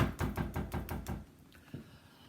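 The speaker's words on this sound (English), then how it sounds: "The wolf, who was very hungry by now, banged on the sturdy front door." Someone raps and bangs on a sturdy front door in a rapid series of six or seven loud, close knocks, followed by a pause and one softer thud; nobody speaks.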